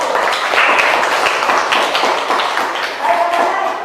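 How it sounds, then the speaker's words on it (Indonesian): Classroom applause for a student discussion group after their presentation, a steady wash of many hands clapping close by for about four seconds. "Berikan tepuk tangan kepada kelompok 1"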